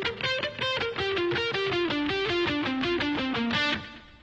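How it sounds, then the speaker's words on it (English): Blues lick on distorted electric guitar with the strings palm-muted by the side of the picking hand, giving a run of short, chunky, clipped notes in a steady rhythm, loud and close with no talking. "If I mute,"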